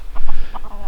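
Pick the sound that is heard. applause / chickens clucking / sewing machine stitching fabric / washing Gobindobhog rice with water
chickens clucking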